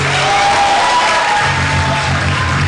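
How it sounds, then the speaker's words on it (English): Audience applause at a university medical sciences induction ceremony, a loud continuous wash of clapping with a sustained musical tone lingering underneath throughout. "A round of applause for the Unstoppables."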